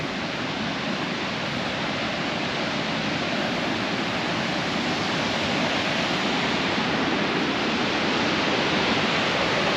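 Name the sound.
Mahood Falls waterfall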